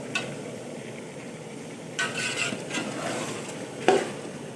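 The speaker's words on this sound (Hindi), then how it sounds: "ये देखें हमारी जो वेजिटेबल है वो अच्छे से फ्राई हो रही है" Mixed vegetables with cauliflower frying in a pan, a soft steady sizzle with a few louder stirring scrapes and clinks, heard alone at moderate level.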